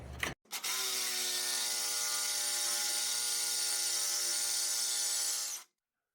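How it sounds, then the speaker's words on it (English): Sawzall reciprocating saw cutting while installing raised body mounts on a vehicle, a brief start then a steady, buzzing high-speed run for about five seconds, close and alone, stopping abruptly. "You got to finish it up with the Sawzall."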